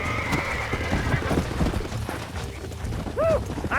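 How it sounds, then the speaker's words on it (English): Horse riding in the Western game Red Dead Redemption: a steady mechanical clatter of hooves and tack, with a horse's whinny rising near the end, all in a busy mix. "You get back on your own horse."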